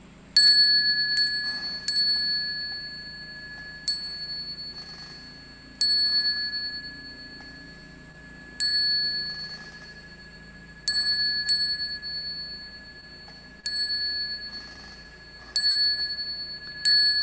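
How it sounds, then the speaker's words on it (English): A temple bell rung before bowing to the Buddhas in a Pure Land Buddhist service, with clear metallic strikes, some doubled, each ringing out and fading slowly, spaced across a quiet room. "we're going to ring the bell 3 times"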